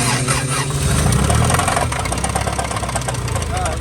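A car engine blown during a track day, after the radiator cap failed, idles roughly with a steady, close mechanical knocking. A low rumble runs under it throughout.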